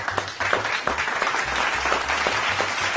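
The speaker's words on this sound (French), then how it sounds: "Applaudissez pour lui" Audience applause for Ibrahim Traoré, Burkina Faso's president, a steady dense wash of many hands clapping at moderate volume for about three seconds with a faint low hum underneath.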